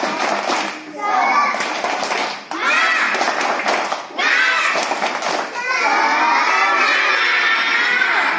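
Children at a religious school's Isra Mi'raj commemoration clap along in a spirit-clap routine, loud, close and rhythmic, mixed with their chanting voices throughout.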